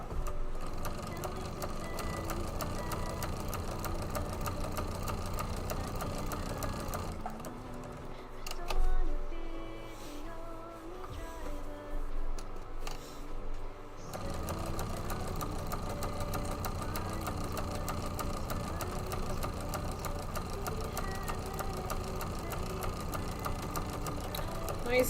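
Sewing machine running steadily while stitching a quilt, a continuous rapid mechanical whir that pauses briefly midway as pins are removed, then resumes; someone talks over it.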